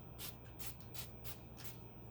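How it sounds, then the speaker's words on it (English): Several quick spritzes of Hard Candy Long Brush Sheer in V makeup setting spray, soft airy hisses spaced out over about two seconds, close and fairly quiet. "I am going to set my makeup with Long Brush Sheer in V Setting Spray by Hard Candy real quick."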